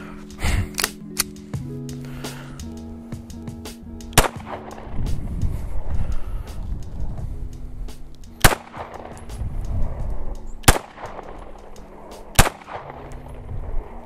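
Gunshots fired at targets in the Sonoran Desert crack out as sharp, loud single reports, about six spaced over several seconds. A low engine hum and rustling noise run between them.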